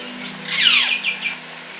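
Birds call inside a large walk-through zoo aviary, a few bright, rising chirps and tweets close by over a steady low hum.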